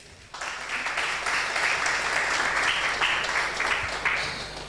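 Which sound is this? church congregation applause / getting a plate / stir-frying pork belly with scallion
church congregation applause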